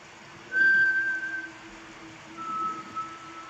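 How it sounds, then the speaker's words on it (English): Outside a home, a home security camera picks up a thin, steady whistled tone that rises, fades, then returns faintly, against a low constant hum and a quiet outdoor background. "we first hear what sounds like disembodied whistling"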